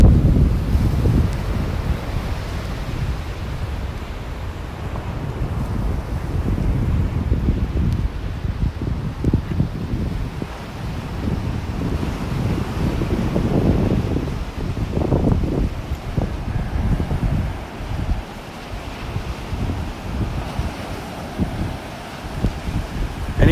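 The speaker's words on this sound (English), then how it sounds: "I'm starting to feel a little bit of that breeze on me." Wind gusts hard across a beach on a chilly morning, buffeting the microphone in a constant loud rumble, with faint surf beneath it and no speech.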